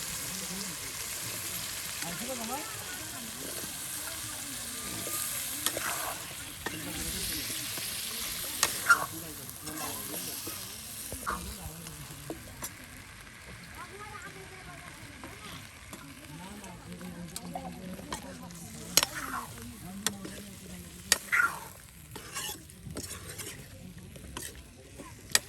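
Potato chunks go into spiced meat curry that is being fried and reduced in a pot at an outdoor riverside cooking spot. A low, soft sizzle runs under scattered scraping and clinking stirring sounds over about 25 seconds.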